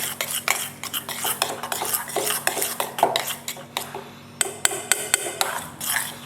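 A spoon scrapes and clinks around a bowl of rouille sauce, rapid irregular metallic taps and scrapes heard up close over a faint steady hum.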